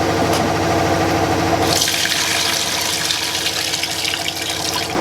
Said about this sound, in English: we rinse our cabbage